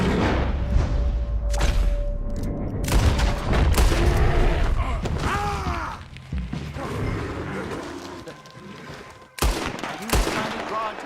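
Rapid gunfire from rifles and revolvers aimed at a legendary bear in Red Dead Redemption 2, loud repeated shots and bursts with booming impacts, mixed with shouting voices and game noise throughout.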